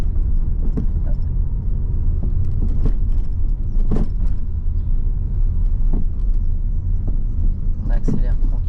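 A car under gentle acceleration during a driving lesson, heard from inside as a steady low engine and road rumble with small rattles, while a voice talks faintly underneath.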